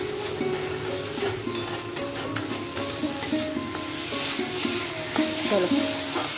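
Small fish sizzling and frying in a pan at home while being stirred, with steady close crackle and occasional scraping clinks of the spoon against the pan throughout.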